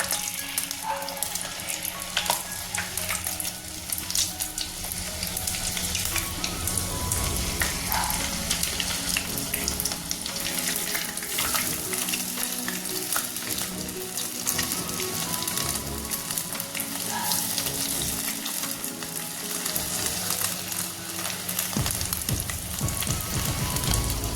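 Jalebi made from leftover dosa batter fries in boiling oil, a dense, continuous crackling sizzle heard close and steady for a long stretch, with occasional stirring clatter.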